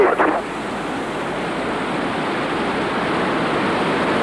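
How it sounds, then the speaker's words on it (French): Muddy floodwater rushes through the town of Vaison during the 1992 deluge, a loud, continuous roaring wash of water that stays steady throughout, with a brief louder burst at the very start. "L'eau boueuse s'engouffre dans la ville, rejaillit par les fenêtres."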